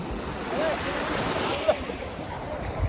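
Sea waves at Al Heera Beach in Sharjah, a soft continuous wash of surf with some wind buffeting on the microphone and a faint voice briefly in the background.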